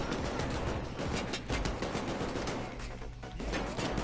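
Gunfire in the video game Payday 2: dense, rapid bursts of automatic shots and overlapping fusillades, loud and continuous across the whole stretch.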